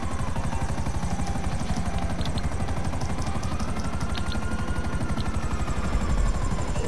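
A helicopter in a video game, its rotor chopping in a fast, steady pulse close and loud throughout, with faint gunfire-like clicks scattered over it.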